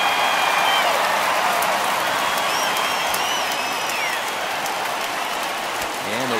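A baseball crowd cheers after an RBI base hit that cuts the lead in half, a steady, broad roar of cheering and clapping with a few whistles rising above it.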